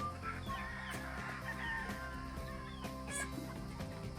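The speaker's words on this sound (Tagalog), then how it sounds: "Nandito ang mga pullet at mga brood hen." Pullets and brood hens in a range area make faint, scattered clucks and short calls over a steady low rumble, heard from a little distance.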